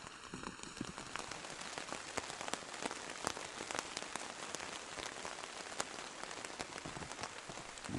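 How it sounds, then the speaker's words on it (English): Steady rain falls in the Siberian taiga, a dense continuous patter with sharp individual drops striking close by, unbroken for the whole stretch with no voices. "It's been raining all day. It's drizzling now."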